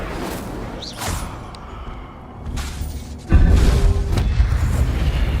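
Incendio fire spell cast in a Harry Potter video game: a soft whoosh, then a sudden loud fiery boom that rolls on as a sustained roaring blast, with no talking.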